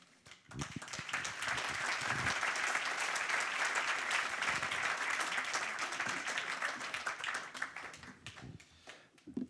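Sustained applause from a large crowd at a talk, building quickly and holding steady before tapering slightly toward the end.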